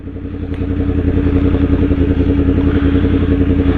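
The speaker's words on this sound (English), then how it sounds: "Then we're going to start engine braking now. Drop a gear, down another gear, down another gear." A motorcycle engine runs loud and close while downshifting with engine braking, its rumbling idle pulsing steadily with a slight rise partway through, no voices present.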